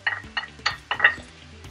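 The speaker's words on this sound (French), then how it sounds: "Donc, mélange les trois champignons." Three kinds of mushrooms being stirred in a pan for risotto, with several sharp clinks and scrapes of a utensil against the pan in an uneven rhythm over a faint sizzle, close and fairly loud.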